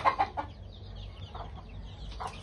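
A broody hen with newly hatched chicks gives a few soft, low clucks close by over a faint background hum.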